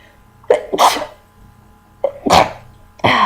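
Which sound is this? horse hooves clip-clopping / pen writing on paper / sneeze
sneeze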